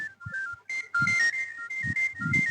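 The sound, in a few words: mobile phone ringtone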